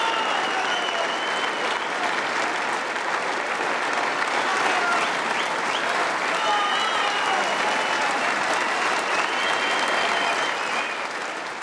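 Sustained applause from a snooker crowd at the 2005 Embassy World Championship, greeting world champion John Higgins; dense, steady clapping fills the hall throughout, loud and continuous with a slight fade at the end.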